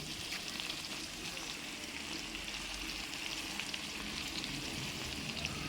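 Beans, potato and eggplant fry in a pan in a home kitchen, a steady, soft, continuous sizzle with faint crackles and no talking.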